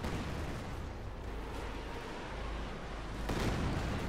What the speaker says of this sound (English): Katyusha fire here against the center